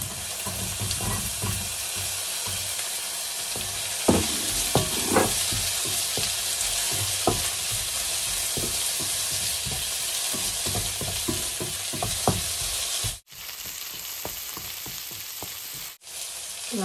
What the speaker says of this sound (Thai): ใส่หมูลงไปผัดค่ะ แล้วเราก็จะใส่สับปะรดนะจ๊ะ